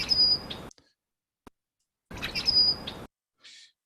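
A rusty blackbird's recorded call plays twice, each a creaky, squeaky phrase topped with a thin high whistle, separated by silence and a brief click, then a faint short trailing note.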